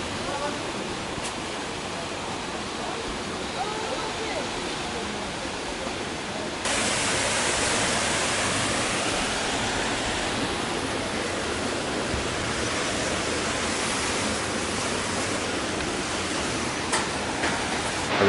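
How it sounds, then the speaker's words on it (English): Large waterfall at the top of a climb in North Korea, scripture carved into the rock beside it, a steady broadband roar of falling water that swells louder partway through and holds constant. "This waterfall is so majestic."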